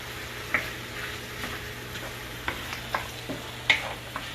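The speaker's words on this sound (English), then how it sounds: "I want this right here to saute up just a little bit" Mirepoix vegetables sautéing with a bay leaf in a pot for braised oxtails, a soft steady sizzle broken by a few sharp spoon scrapes and taps as they are stirred, close and moderately quiet.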